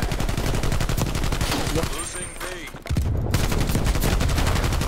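Dense automatic gunfire from the shooter game Black Ops Cold War rattles loudly in rapid bursts, dropping out briefly mid-clip before resuming, while a player speaks a short word over it.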